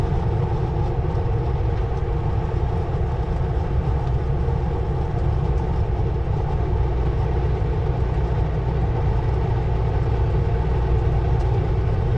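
Train passing near a highway, a steady low rumbling roar of rail wagons heard continuously from inside or near a moving vehicle, with no voices.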